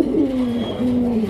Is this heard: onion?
no